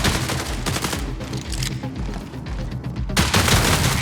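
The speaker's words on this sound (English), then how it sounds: "The sidearm is a gun that is effective in close quarters" Rapid gunfire from a close-quarters sidearm in the Marathon video game, a dense burst of shots at the start and another after a brief lull, loud and punchy with no talk.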